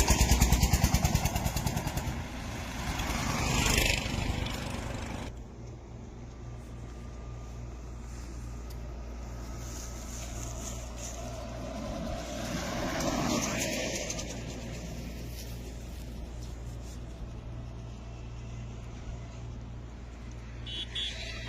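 A speedboat engine in Bangladesh drones steadily at mid pitch for the whole stretch, loud and close at first, then softer after a sudden drop, with wind and water rushing over it.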